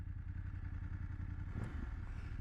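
A new 2024 BMW F 800GS motorcycle idles close by with a steady low thumping engine note, and a brief clatter or blip sounds near the end.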